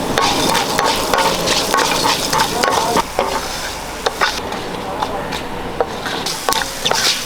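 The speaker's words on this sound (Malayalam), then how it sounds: "ശകലം ജീരകം ഇട്ട് കൊടുക്കാം ശകലം മല്ലി ഇട്ട് കൊടുക്കാം ശേഷം ഉലുവ നാലല്ലി വെളുത്തുള്ളി ഇത് നമുക്കൊന്ന് വറുത്തെടുക്കാം" Cumin, coriander seeds, fenugreek and garlic cloves roasting in a pan, with a crackling sizzle and brisk stirring scrapes up close, loud and continuous with some faint background voice.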